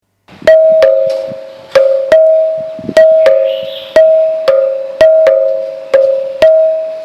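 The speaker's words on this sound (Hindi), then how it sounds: "मंदिर की घंटी और स्कूल की घंटी को मिलाकर यह आधुनिक दरवाजे की घंटी बनाई है" A bright electronic doorbell chime, a modern doorbell made by combining temple bell and school bell sounds, rings repeatedly in an uneven pattern, each strike sharp and then fading, loud and alone.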